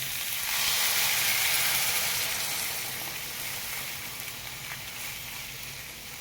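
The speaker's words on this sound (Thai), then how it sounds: "เราเติมน้ำเลยครับ" Water poured into a hot pan of pork belly being stewed with pickled mustard greens, giving a loud, steady sizzling hiss of steam that gradually eases, with no talking.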